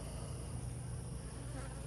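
Honey bees buzz in a continuous, even drone close around an open hive during an inspection for small hive beetles, with no talk over it.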